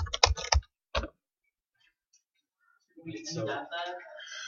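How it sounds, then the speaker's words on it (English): A computer keyboard clatters in a quick burst of keystrokes, followed by a single isolated key press, then silence before a person starts talking. "Then what I do is I hit enter and I just start typing."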